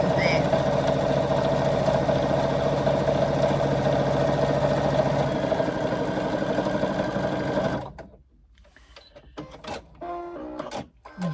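Sewing machine stitching a long handbag seam, needle down and pivoting at a corner, running as a steady continuous mechanical whir for about eight seconds, then stopping, followed by a few faint handling clicks and soft rustles.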